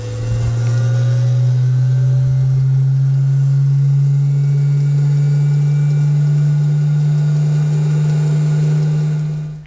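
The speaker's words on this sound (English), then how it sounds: "Set your centrifuge for 5 minutes." Laboratory centrifuge spinning microhematocrit blood tubes, a steady loud electric whine holding one constant pitch for the whole stretch before it cuts off at the end, with no voices.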